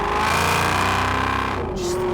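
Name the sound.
Mercedes E55 AMG car engine accelerating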